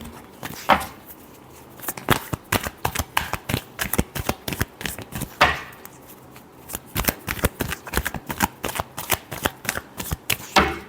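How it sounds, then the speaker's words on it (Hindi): Tarot cards shuffled by hand in quick, dense riffling bursts that repeat with brief pauses, close and crisp, with no talking. "Last shuffle."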